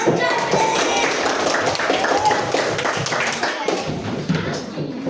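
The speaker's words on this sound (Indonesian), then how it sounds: "silakan tepuk tangan" An audience claps hands in a dense, steady patter of many overlapping claps that lasts throughout, with voices mixed in.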